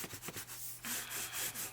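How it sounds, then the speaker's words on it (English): Bone folder burnishes damp paper flat on a craft journal, a few quick scratchy rubbing strokes followed by a longer, steady rub, close and quiet. "to flip it and burnish with my bone folder to make sure that's nice and flat"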